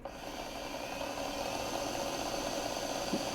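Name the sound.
micro drill press motor running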